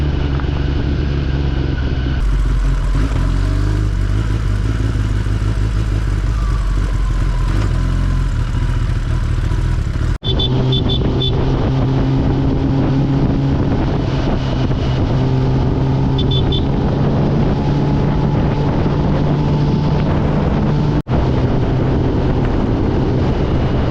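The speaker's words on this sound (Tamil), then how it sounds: "ஹைவேக்கு சைடில் மண் ரோட்டில் கொஞ்சம் தூரம் வண்டி போவோம்" A Kawasaki ZX-10R motorcycle rides along a dirt road beside a highway, its engine droning steadily and loudly throughout with constant road and wind rumble, no voices over it.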